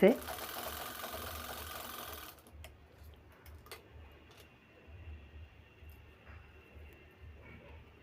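A sewing machine runs steadily as it stitches a bag made from saree borders, loud and busy for the first two seconds, then dropping to a quieter run with soft ticking clicks.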